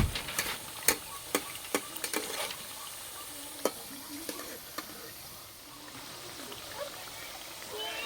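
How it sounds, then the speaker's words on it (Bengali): Lachha sweets fry gently in oil over low heat, making a soft, steady bubbling sizzle broken by several sharp ticks and spatula taps early on, heard close and fairly quiet. "হালকা আঁচে মিষ্টিগুলো ভেজে নেব।"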